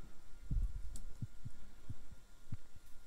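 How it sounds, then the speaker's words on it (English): A slow heartbeat thuds in the horror game The Cat Lady, low muffled double beats repeating steadily over a faint hum, close and alone. "I hear a heartbeat."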